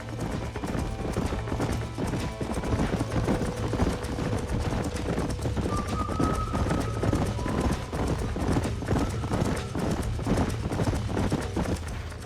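Horses' hooves clip-clop steadily through a Red Dead Redemption game scene, with a few whinnies rising over the continuous trotting and a low music bed underneath, the hoofbeats close and prominent throughout.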